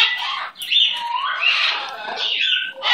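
A pet bird squawks and chirps loudly and close up, in a run of harsh calls with brief pauses between them.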